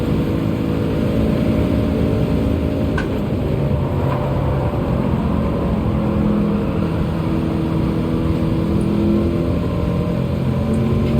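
A racing car engine in Gran Turismo 7 drones steadily and loudly throughout, holding a sustained high-revving note with no talk over it.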